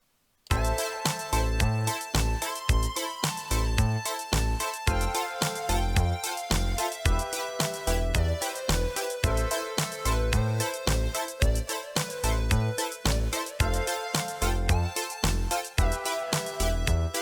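Reason's Europa synth plays a preset lead over a 17-bar loop with punchy, rhythmic beats, bright layered tones and steady pulsing notes, loud and alone.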